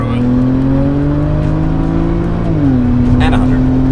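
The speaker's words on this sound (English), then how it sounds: "So much wheel spin." A BMW with the N54 engine launches hard from 0 to 100 km/h, its loud, steady engine drone rising in pitch before a brief dip at a gear change, with tires spinning under the strain.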